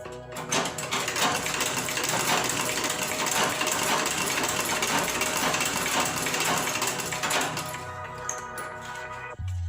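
Shoemaker's sewing machine stitching in a fast, loud, continuous mechanical chatter for several seconds, then stopping abruptly near the end.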